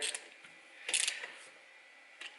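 A small wrench tightening the bolts on a Lambretta scooter gives quiet ratcheting and metallic clicks, a short burst in the middle and a fainter one near the end, with no talking.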